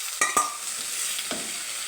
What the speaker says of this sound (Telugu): టమాటాలు వేసేస్తున్నాను.